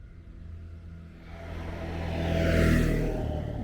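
A scooter engine approaches and passes close by on a residential street in Bay Ridge, Brooklyn, its drone swelling to a loud peak before starting to fade.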